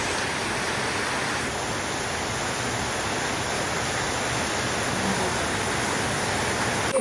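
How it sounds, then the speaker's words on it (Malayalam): Heavy rain pours down steadily at a home, a dense, even hiss that fills the whole stretch without pause and with no talking. "നല്ല മഴയുണ്ട്."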